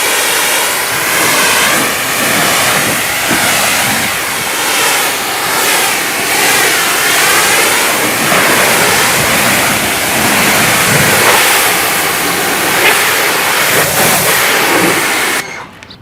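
Close, loud, continuous rushing spray of an EGO 2100 pressure washer rinsing a car, holding a steady roaring hiss with slight surges in intensity throughout, then stopping sharply at the end.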